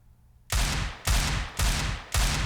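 Four heavy Desert Eagle pistol shots from a Counter-Strike match, evenly spaced about half a second apart, each a loud sharp crack with a short tail, heard alone without voices.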